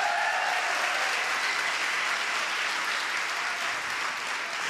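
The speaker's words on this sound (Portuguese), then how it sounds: "Pode aplaudir, pode aplaudir." An audience in a church claps warmly, a thick and continuous burst of applause at steady volume that fades only slightly toward the end.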